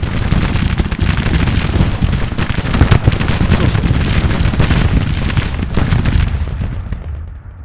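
Artillery guns firing in the Grand Tactician strategy game, a dense, continuous roar of overlapping booms and cracks. It stays loud and steady throughout, then tapers off near the end.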